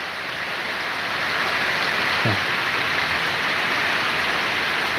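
Steady downpour of the season's first monsoon rain, a broad continuous hiss near and loud, with one brief low thud midway and no talking.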